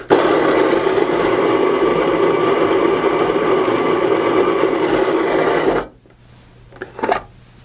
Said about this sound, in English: We're going to recommend that you grind a few ounces of coffee through your machine first, just to clear things out and season it a little bit.